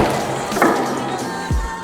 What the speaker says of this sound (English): So what would a hand-thrown 40 mic grenade do to a wall like that?